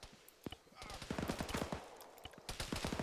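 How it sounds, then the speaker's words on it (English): Gunfire in a military video game rattles as rapid automatic bursts of sharp shots, fairly close and loud, with voices audible underneath. "Hades, what direction are you taking fire from?"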